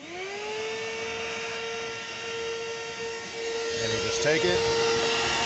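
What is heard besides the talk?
Armor All 2 horsepower shop vac running as blower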